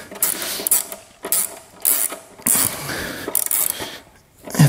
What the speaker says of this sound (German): Schrauben wir die Batterie mal fest.